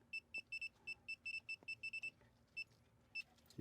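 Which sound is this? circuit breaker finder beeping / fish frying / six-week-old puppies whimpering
circuit breaker finder beeping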